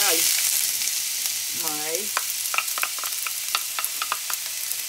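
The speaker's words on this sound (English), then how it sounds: "I've put in my teaspoon of cooking oil, and I'm going to take and add, I've already diced" Diced large onion sizzling in a teaspoon of cooking oil in a pan, a steady broadband fry hiss with scattered crackles and pops, and a brief spoken word near the start.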